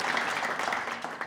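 A studio audience claps for a team on an Amharic television quiz show, a dense, steady burst of applause that holds for about a second before trailing off.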